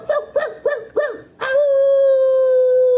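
A dog in a played video gives four short, rising yelping cries and then settles into one long, loud, steady howl, close and alone with no talk over it.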